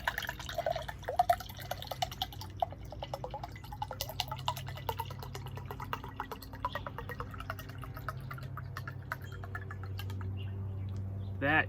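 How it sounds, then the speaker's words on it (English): Fresh mint meadow tea is poured into a tall glass, producing a close, steady trickle and drips that rise in pitch as the glass fills, with no talk. "I'm gonna pour a big tall glass here."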